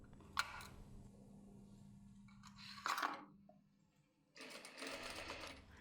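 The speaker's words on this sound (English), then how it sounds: "Stitch the whole skirt circle-wise." A sewing machine stitches a skirt all the way around its circular edge in three close, steady bursts of whirring, separated by short pauses, with no voices.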